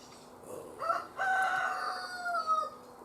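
On a homestead in the Idaho mountains, a rooster crows once in a drawn-out call, with a few short clucks from chickens just before it, moderately close and faint overall.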